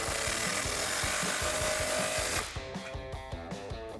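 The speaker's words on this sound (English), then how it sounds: "we can take our 14mm swivel socket and tighten" A ratcheting socket wrench tightens Flowmaster muffler clamps on a Toyota Tacoma: a close, rough grinding rasp for a couple of seconds, then a series of rapid, evenly spaced ratchet clicks.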